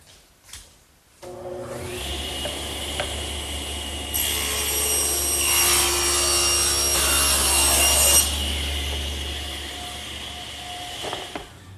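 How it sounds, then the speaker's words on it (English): A stationary saw rips and cross-cuts solid wood panels: the motor spins up with a steady hum, then a loud, bright cut through the wood lasts several seconds before the blade runs back down alone. "And to cut them, I'll just use my stationary saw."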